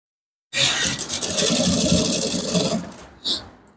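A sewing machine stitches piping onto Ankara fabric in a steady, close run of about two seconds, followed by a pause and one short final burst.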